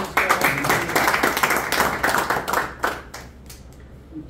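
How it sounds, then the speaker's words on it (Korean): A crowd claps together for the organizing committee chairman at a certificate ceremony for a freestyle football federation. The applause is loud and steady for about two and a half seconds, then thins into scattered claps and fades out. "큰 박수 한번 주세요"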